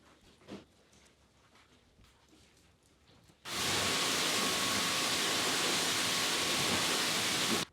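A Solo pump sprayer mists deionized water over a ceramic-coated car, starting abruptly after a few quiet seconds and then hissing loud and steady until it cuts off near the end.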